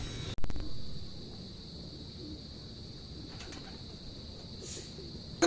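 Racing pigeons cooing before a training release in Cabanatuan, Nueva Ecija, soft low coos from birds close by, opened by a brief burst of wing flaps and sharp clatter, with a high steady tone running underneath.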